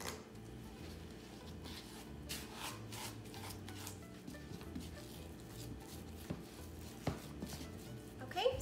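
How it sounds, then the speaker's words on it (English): A mini spatula stirs cinnamon cereal dough in a bowl, producing steady soft rubbing and scraping with occasional light taps, close and continuous under a low background hum. "I'm gonna mix this up until it forms a dough"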